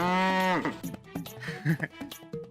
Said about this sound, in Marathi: हो बैल आहे साहेबराव